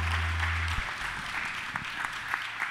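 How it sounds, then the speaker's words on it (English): A church congregation at a Sunday service claps together, a sustained dense round of applause filling the room. A low hum sits under it for the first moment, and the clapping carries on alone. "Can you give Jesus a round of applause?"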